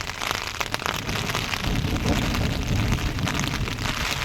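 Heavy rain falls steadily on a terrace garden, heard from under a held umbrella as a dense, continuous hiss and patter that stays loud throughout.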